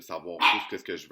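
Dogs indoors, reacting to another dog outside, let out a brief bark or yip that overlaps with a person speaking French.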